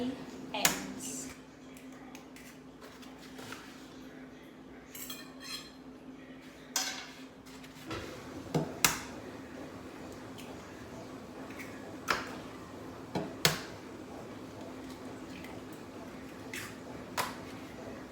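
Eggs being cracked into a bowl for French toast in a home kitchen, with several sharp taps and knocks scattered among softer clinks and squishy sounds, some of them under a person talking.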